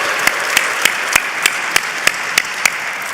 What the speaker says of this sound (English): Round of applause for that last category.